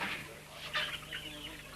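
Several rescued chickens cluck and chatter in short, irregular bursts, close by and moderately loud, with soft background noise around them.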